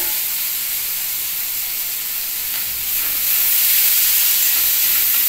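Tomatoes hitting hot oil in a pan, a loud, close and continuous hissing sizzle that grows slightly stronger partway through, with no talking over it.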